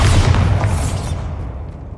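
A Bombarda spell explosion in the Hogwarts Legacy video game lands as a loud, close, booming blast that rolls and fades over about two seconds, heard alone.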